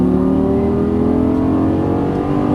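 Lamborghini Gallardo LP550 on a race track, engine note climbing steadily as the throttle opens, loud and close with strong harmonic drone throughout.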